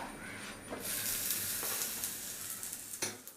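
Whole wheat kulcha brushed with wood pressed groundnut oil sizzles loudly on a hot tawa after being flipped, a steady bright frying hiss with a few crackling spikes, close and alone.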